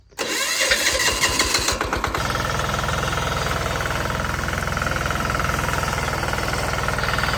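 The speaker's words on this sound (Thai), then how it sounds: "ตอนนี้เราจะตัดหญ้าแบบใส่ล้อเหล็กนะครับ" Mini tractor engine on a grass-cutting job with steel wheels fitted, starting up with a burst of irregular knocks and then settling into a loud, close, rapid steady chugging beat with no talk.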